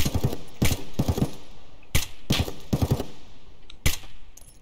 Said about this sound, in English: Somebody's shooting at me from down there.